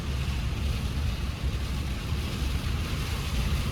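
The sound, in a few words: strong wind blowing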